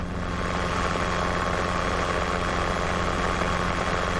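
A Robinson R22 helicopter flies with a steady, loud drone of engine and rotor, continuous and unbroken from the cabin with no voices.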